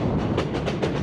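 Cumbres and Toltec Scenic Railway train near Chama, New Mexico rolling along the rails, a steady rumble with rhythmic clickety-clack wheel beats recurring about every quarter second, close and continuous without voices.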